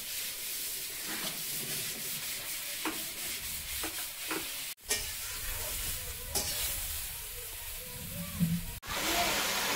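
Water lily stems and shrimp sizzle in a frying pan, with steady hissing and repeated scraping stirs, and a couple of brief interruptions in the sound.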